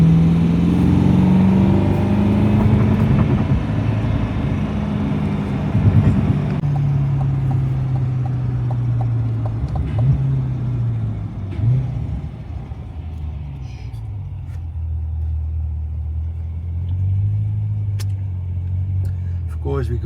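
A car moving through Dubai traffic gives a steady low engine and road rumble with shifting pitch as it accelerates and slows, close and continuous, while a person talks over it.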